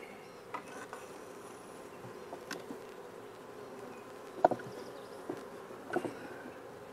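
Honeybees buzz around hive frames in an open colony with queen cells, a steady low droning hum with a few faint knocks and clicks, and no speech.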